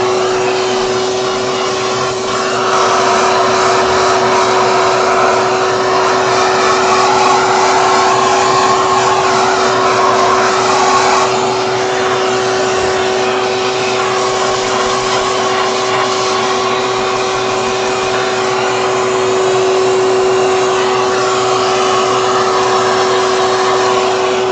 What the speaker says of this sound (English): then vacuum.